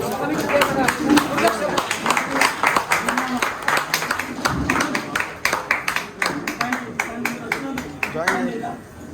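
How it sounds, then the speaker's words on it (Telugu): An audience at a library event breaks into rhythmic clapping, a dense run of hand claps that carries under talk the whole way through. "చప్పట్లు కొట్టండి."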